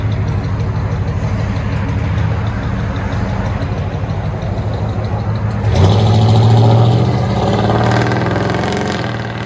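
A 1979 Chevy 3500 show truck with a 454 big block V8 idles loudly and steadily up close with a lumpy rumble, then the engine swells briefly in a short rev before settling back.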